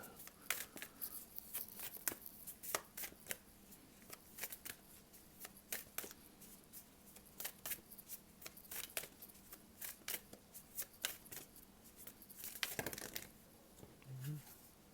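Tarot cards being shuffled for a reading with a Magic Path deck, a soft, steady riffling and flicking of card stock that repeats close by throughout, without any speech over it.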